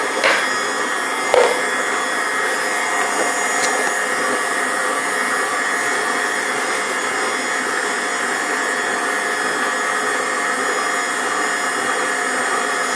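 Electric hand mixer whirs steadily at a constant pitch while beating healthy banana bread batter, with a brief knock near the start and no voices over the continuous drone.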